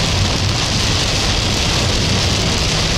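Heavy rain pours down steadily in a dense, continuous roar that stays loud and unbroken throughout, with no voices.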